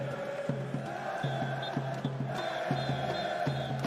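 A split crowd at an esports arena for a Heroic versus Team Liquid Counter-Strike match at IEM Rio 2022 cheers and chants in rhythmic bursts, loud and reverberant, with stomping or clapping beats.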